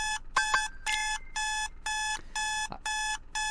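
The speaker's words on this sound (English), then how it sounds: "I hear the most annoying sound in the world. My alarm clock." Loud, close electronic alarm clock in a DDLC mod video game, beeping in eight evenly spaced bursts with brief gaps between, alone without talk.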